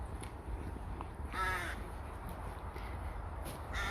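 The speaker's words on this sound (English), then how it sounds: "The ominous noise of the crows." Crows call near a derelict ruined church, a single harsh caw standing out against steady wind and outdoor background noise, with fainter calls scattered around it.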